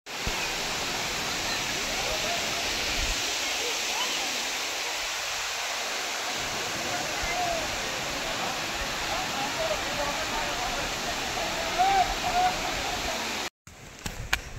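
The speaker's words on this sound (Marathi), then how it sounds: "धबधबा धाबा धाबा कसा पडतोय, धाबा धाबा आणि इथे असलेली गर्दी, सुंदर असे धबधबे" Waterfalls at Daryaghat near Junnar send up a constant broadband roar that holds steady for nearly fifteen seconds. It cuts out briefly just before the end.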